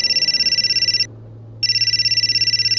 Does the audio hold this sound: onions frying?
no